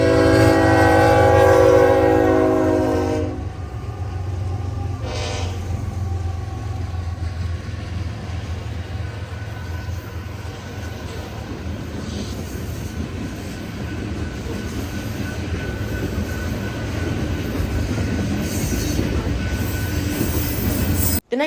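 A westbound freight train rumbles steadily past at close range for a long stretch, with a loud horn blast at the start and clattering wheels throughout.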